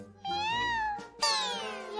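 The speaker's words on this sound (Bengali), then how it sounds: "এখন আবার বিড়াল কোথা থেকে এলো?" A cartoon cat gives two drawn-out meows, loud and close, the second rising sharply before trailing off.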